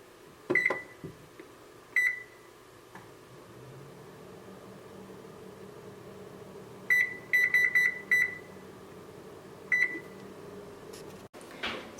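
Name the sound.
putting sweet potatoes into the oven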